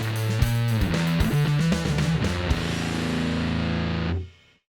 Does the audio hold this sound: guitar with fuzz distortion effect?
yes